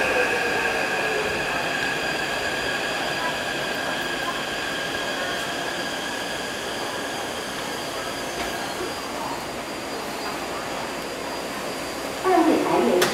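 A Taipei Metro C371 train, cars 405/406, bound for Huilong, rolls into Guting station with a steady rumble and whine, tonal hums and a brief wheel squeal near the end. Station voices sound faintly under the noise.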